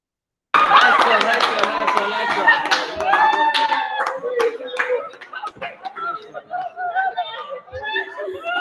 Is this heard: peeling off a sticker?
no